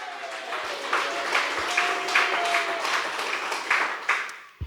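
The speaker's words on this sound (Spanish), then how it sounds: "Jesucristo, evangelio, fuerte aplauso" A Bolivian church congregation applauds loudly after a sermon on Jesus Christ and the gospel, a steady, dense clapping that lasts for several seconds with a faint tone sustained underneath.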